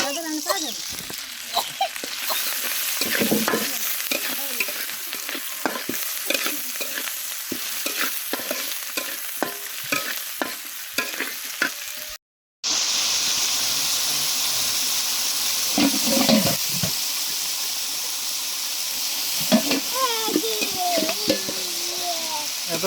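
Shrimp frying with banana flower in a pan, a steady sizzle and hiss with repeated stirring scrapes, briefly cut off midway before the frying resumes louder.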